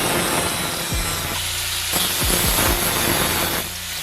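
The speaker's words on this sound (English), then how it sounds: "I'm gonna need to angle grind and just cut that out a little bit" Angle grinder cutting metal during a roll bar fitting on an NA Miata, a harsh continuous grinding whine with several brief bursts and dips as the disc bites, loud and close with no talking.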